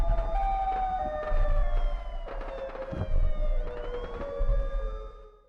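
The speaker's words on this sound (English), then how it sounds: "Siren Head is releasing a loud sound." A loud, wailing siren attributed to the Siren Head creature, layered tones sliding and wavering in pitch over a heavy low rumble, repeating in several swelling bursts.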